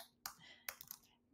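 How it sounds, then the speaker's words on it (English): A few quick keystrokes on a computer keyboard, two or three separate soft clicks close by in a quiet room. "So just type T on your keyboard and give it a month."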